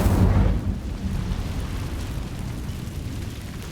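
An Incendio fire spell is cast in Hogwarts Legacy with a loud burst of whooshing flame that thins into a softer crackling roar over a few seconds.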